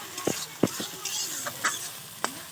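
Melon seed paste cooks with ginger, garlic, onion and spices in a pan for a spicy chela fish curry, giving a quiet sizzle under a few distinct spoon scrapes and knocks against the pan.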